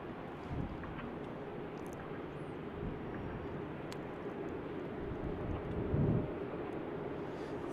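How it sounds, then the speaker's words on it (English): A Delta Airbus A330neo taking off from runway 34 right at Salt Lake City airport, a broad, distant jet roar that holds steady and swells slightly toward the end, heard without talk. "We'll have an A330 departing runway 34 right momentarily."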